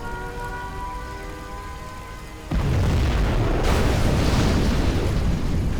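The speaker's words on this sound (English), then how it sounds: "We have launched our nuclear missile." A nuclear missile strike in the video game Command & Conquer: Zero Hour lands as a sudden loud roaring blast that swallows a softer tonal backdrop, then stays as a dense, rumbling wash with a second surge of hiss partway through.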